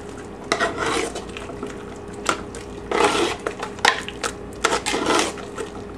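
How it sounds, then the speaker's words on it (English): A spoon stirs a pot of chili in several bursts, scraping and clinking against the metal, with brief quieter gaps between strokes. The sound is close and there is no talk. "Let's go ahead and stir it one more time here."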